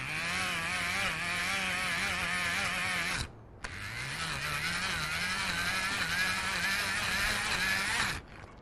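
A hand-cranked generator wired to a second generator so the second one spins as a motor, giving a steady whirring hum with a rising and falling pitch, two long cranking runs split by a brief pause, close and loud.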